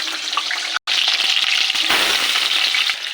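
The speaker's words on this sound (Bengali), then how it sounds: "আলুগুলোকে ভেজে নেব" Potatoes fry in hot oil in a wok, a loud dense hiss of sizzling that continues steadily with a brief dropout near the start, close up and alone.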